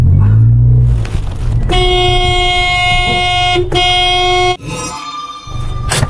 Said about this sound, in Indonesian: sampai kelakson mobilmu kayak gitu